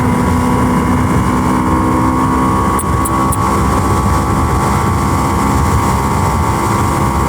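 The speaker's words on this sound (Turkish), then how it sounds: "Yokuşla çıkıyoruz. Vites düşürmek istemedim." A vehicle engine drones loud and steady while climbing a hill in a high gear without downshifting, a continuous low rumble close by with a few brief high beeps partway through.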